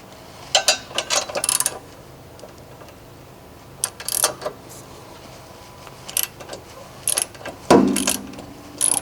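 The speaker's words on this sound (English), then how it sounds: "You hear the pop? That's the suspension wanting to settle into its natural resting point." Sharp metallic pops and clicks from a lifted Subaru's suspension settling as mounting bolts loosen, in uneven bursts close by, separated by quiet gaps, with one heavier clunk near the end.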